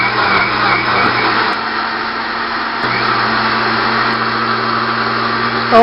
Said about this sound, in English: And blend it up.